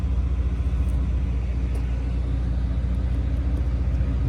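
A 1965 Chevrolet Corvette coupe with the 327 V8 rated at 250 horsepower runs steadily. A deep, even engine rumble continues close by without any speech.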